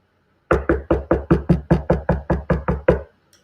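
Knuckles rap on a door in a steady run of about eleven sharp, evenly spaced knocks, loud and close, with no talking over them.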